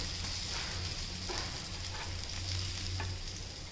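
An egg cutlet frying in a pan for breakfast, a continuous close sizzle with faint stirring and crackle, steady and fairly loud with no voices.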